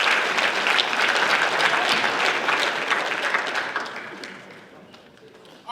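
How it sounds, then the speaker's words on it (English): An audience at a high school basketball awards ceremony claps in sustained applause, loud and dense at first, then thinning out and fading over the last couple of seconds. "let's give them another round of applause"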